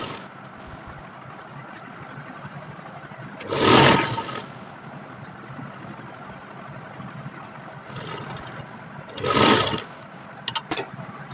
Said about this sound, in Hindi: फिर यहाँ से सिलाई लगा देनी है।